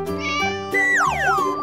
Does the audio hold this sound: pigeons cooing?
no